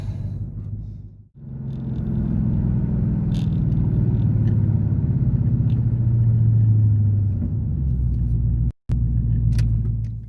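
A Dodge Challenger Scat Pack widebody drives close by, its engine giving a steady deep rumble that holds loud for most of the stretch, cut by two brief dropouts.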